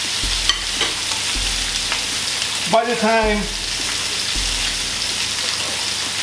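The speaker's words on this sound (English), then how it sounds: "Who doesn't like the sound of sizzling?" Chicken sizzles and crackles steadily in a hot pan, with occasional stirring scrapes and a brief voice speaking over the frying.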